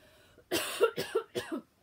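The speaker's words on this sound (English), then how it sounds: "Get rid of this cough would be good." A short run of several harsh coughs, close and fairly quiet, coming in quick succession with brief pauses between them.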